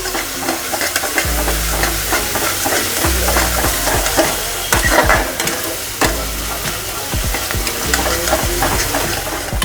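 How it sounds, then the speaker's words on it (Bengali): Food is stir-fried over a high flame, with loud continuous sizzling and hissing broken by rhythmic low thumps and scrapes of the spatula tossing the pan, all close up. "এবারে হাই ফ্লেমে রান্না হবে বুঝছো চাক করতে হবে"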